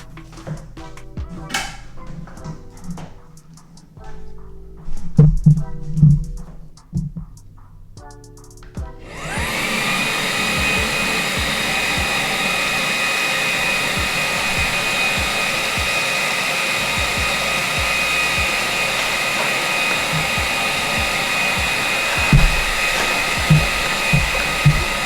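A DeWALT vacuum fitted with a cyclone separator switches on at maximum suction after some handling clunks and rattles, then roars with a loud, steady high-pitched rushing whoosh that continues close up without talk.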